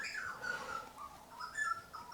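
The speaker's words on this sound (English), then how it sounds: "Oh, listen to the birds outside, Ian." Birds chirp and tweet outside an open door, giving soft, scattered calls at a moderate distance in an otherwise quiet room.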